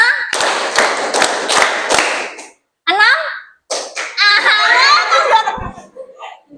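A classroom of students clapping hands in a counted rhythm, several sharp, loud group claps in quick succession, then children's voices and laughter, with a few scattered claps mixed in.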